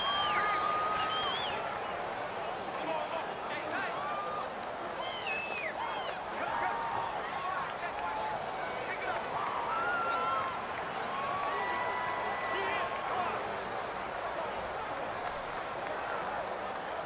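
Home stadium crowd at a football game, a dense sustained roar with scattered whistles and shouts, loud and far-spread, continuing under a commentator's voice.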